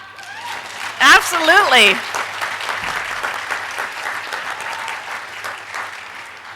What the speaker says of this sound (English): As we get started, yes, you can clap.